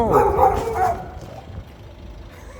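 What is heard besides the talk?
dog barking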